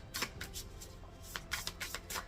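Tarot cards are shuffled during a spiritual card reading, a run of soft papery riffles and slaps in uneven bursts, close and quiet, with no talk.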